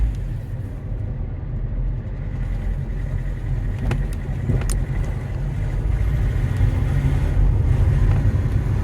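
An Alfa Romeo 159 with its EGR valve removed drives along, its engine giving a steady low rumble with road noise from inside the cabin, loudness building slightly as it pulls.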